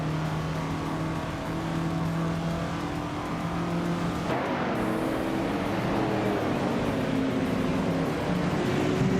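A 1969 Chevrolet Camaro Z28 races at the Hungaroring in a video game, its engine droning steadily then shifting abruptly into a rougher, rising roar midway, loud and continuous without speech.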